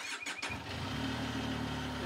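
A TRK motorcycle engine cranks and catches, then settles into a steady, even idle to warm up, heard close but fairly quiet with no voices.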